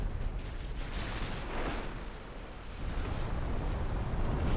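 A torpedo hit explosion in the naval battle game Ultimate Admiral: Dreadnoughts sounds as a dense, sustained low rumbling roar with a brief swell partway through, continuous and loud with no clear separate blasts.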